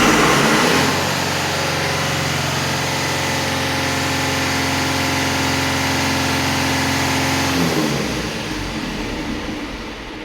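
A Tornatech diesel fire pump engine running after a manual start on battery 1, a loud, steady droning hum with a strong low tone that holds for several seconds and then eases.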